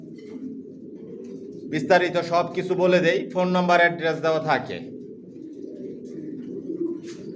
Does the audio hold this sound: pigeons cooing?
yes